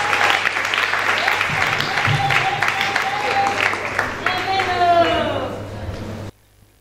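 A church congregation breaks into loud applause for a pastor, dense continuous clapping close and filling the space while a voice talks and exclaims over it, ending abruptly.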